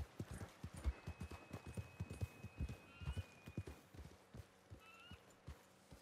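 Horse hooves clip-clopping in Red Dead Redemption 2 video game, a steady run of close, faint hoofbeats with a brief whinny-like tone near the end.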